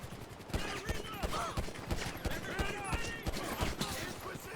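Gunfire in the GTA 5 video game during a police shootout, a rapid irregular series of sharp shots at moderate level, with voices talking over it.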